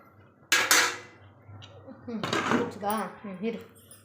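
Super Noodles being stirred in a cooking pot on a gas stove, with a couple of sharp metal clinks of utensil against pot followed by softer scraping, under a person talking.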